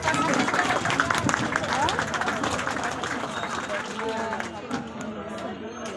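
Children and teachers at a school result announcement break into clapping, a dense, sustained patter of many hands mixed with crowd chatter and voices, gradually thinning toward the end.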